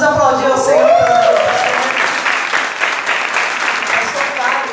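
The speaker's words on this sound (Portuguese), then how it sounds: "Vamos aplaudir ao Senhor" A church congregation applauds in a broad, steady wash of clapping, while a voice speaks over the start and a faint tonal sound rises briefly early on.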